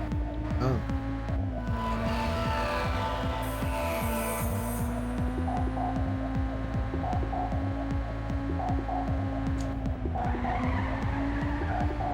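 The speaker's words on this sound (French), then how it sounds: "Ah, le drift." In Ridge Racer Type 4, a racing car drifts through a corner with a long, sustained tire screech over the steady droning hum of its engine, loud and continuous.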